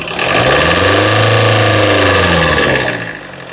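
A car's engine is revved lightly at a used-car lot, climbing into a loud, smooth, close-up rev that holds steady for a couple of seconds before dropping back toward idle, with no talking.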